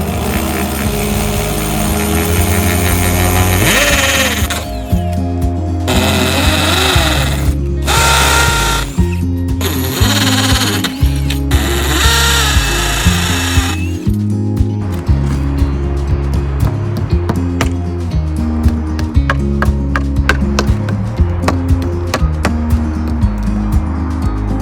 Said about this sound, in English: when you're drilling into masonry or concrete or anything, you need a hammer drill